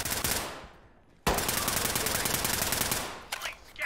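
Heavy automatic gunfire from big guns in a video game, a sustained loud burst of rapid shots that cuts off, then resumes abruptly and rattles on continuously.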